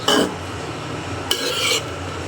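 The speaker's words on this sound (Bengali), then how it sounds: "এই জন্য আলু ভাজি হয়ে গেছে, এখন উঠাবো।" Fried potatoes are scooped out of a pan with a utensil: two short, close metallic scrapes, the second slightly longer, over a steady low kitchen hum.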